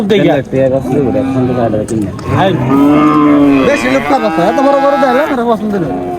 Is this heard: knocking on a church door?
no